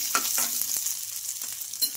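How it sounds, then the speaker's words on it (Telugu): Chopped onions, finely cut ginger and green chillies fry in hot oil in a pan, giving a steady, close sizzle with occasional stirring scrapes and no talking. "ఈ ఆనియన్స్ అయితే బాగా ఫ్రై అవ్వాలి."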